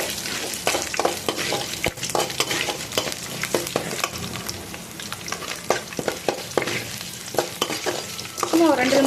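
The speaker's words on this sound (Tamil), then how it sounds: "பூண்டு போட்டு நல்லா வதக்கி விடுங்க." Garlic sautéing in hot oil for an okra fry, stirred in a pan with a steady close sizzle and frequent scraping, clicking spoon strokes, no talk.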